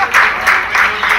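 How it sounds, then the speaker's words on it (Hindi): An audience claps loudly for a stage dancer in rhythmic bursts, roughly four swells of clapping in quick succession, close and sharp. "उनके लिए जोरदार ताली।"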